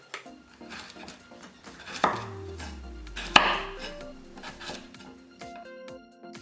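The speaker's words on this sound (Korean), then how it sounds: "어슷하게 길게 썰어주고" A knife slicing sweet potatoes lengthwise into 1.5 cm wedges, with a couple of sharp cuts and knocks against the board among faint clinks of kitchenware, close and moderately quiet, no talking.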